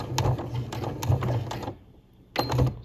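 A domestic sewing machine stitches fabric in rapid mechanical bursts with short pauses between them. It sounds close and clattering, as on a piece of sewing for a short garment.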